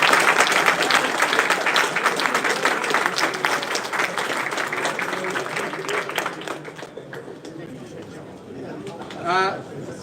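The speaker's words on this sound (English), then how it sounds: "Every one of us to give a big applause to the University of Belgium" Audience applause at a moot court competition round, a dense burst of clapping that tapers off over several seconds, followed by a voice speaking near the end.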